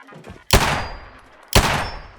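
Two loud, sharp AutoMag pistol shots from a modded Fallout 4, spaced about a second apart, each with a bright crack and a short ringing tail.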